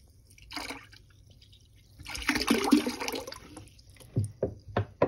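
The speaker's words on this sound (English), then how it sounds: "And we'll add 2 gallons of water to that." Water is poured onto baking soda to make a tanning solution, with a brief splash, then a longer gurgling pour and a few separate drips and splashes toward the end.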